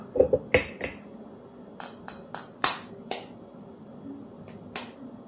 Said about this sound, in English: we need to break open these eggs, put it into a bowl